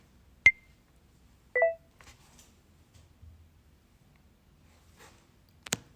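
Short electronic beeps from a TikTok in-app three-second countdown timer, a few isolated tones spread across several quiet seconds, clear and close.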